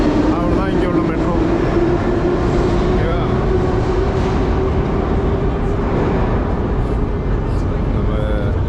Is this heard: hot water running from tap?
no